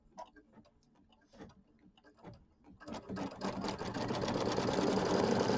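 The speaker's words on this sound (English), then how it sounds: "we're going to go ahead and stitch the tack down line" An embroidery sewing machine stitches a quilt tack-down line, starting with sparse ticking clicks, then settling into a loud, continuous rapid stitching hum close by.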